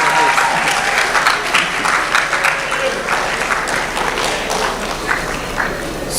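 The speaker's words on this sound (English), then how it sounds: "Applaud for all our contestants again." Audience at an inter-medical-school public speaking competition applauds the contestants, a steady, loud wash of many hands clapping together without pause.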